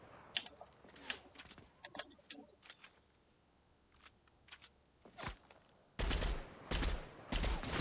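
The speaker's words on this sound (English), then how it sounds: "Oh, wow, headshot with the hunting rifle." Hunting rifle shots in an online shooter video game ring out as scattered sharp cracks over several seconds, ending in a louder cluster of close reports, all fairly quiet overall.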